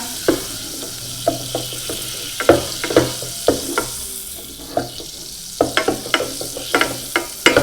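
Butter melting over low heat in a pan for popcorn, a soft sizzling bed punctuated by repeated sharp scraping taps of stirring, close and fairly loud, with no voices.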